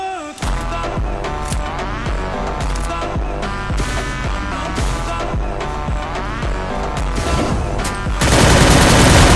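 Rapid bursts of gunfire from a battle royale video game, loud and dense with repeated shots and booms, rising into a heavier roar of fire near the end.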